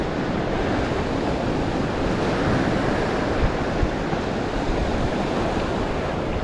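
A loud, continuous roar of surf and rushing wind, steady throughout with no voices.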